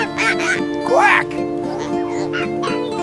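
Cartoon duck quacking in a children's farm animation, a few bright nasal quacks over steady background music with other cartoon voices.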